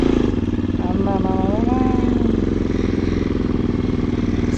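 A Bajaj Pulsar NS200 motorcycle runs under way on a group ride, its engine a loud, steady, close drone with a rhythmic throb throughout, while a rider talks over it.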